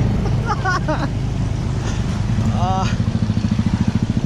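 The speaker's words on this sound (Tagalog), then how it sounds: "Yung motor namin nagmukhang jet ski" A motorcycle pushes through floodwater with a steady, low engine drone and sloshing water, and people exclaim and talk loudly over it.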